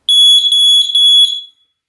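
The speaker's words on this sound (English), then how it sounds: "push the transparent button and you'll hear a test beep" A Heiman HS1SA-E smart smoke alarm gives a few short, loud, piercing electronic test beeps in quick succession, close by and with nothing else audible.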